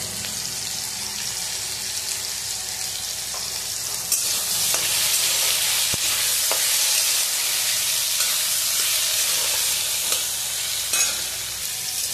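Potatoes sizzle and crackle steadily in hot oil, with occasional stirring scrapes; the frying grows a little louder partway through.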